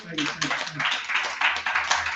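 An audience claps for a poet introduced as a panelist at a live forum, a brief burst of continuous clapping with talk and cheering mixed in under it.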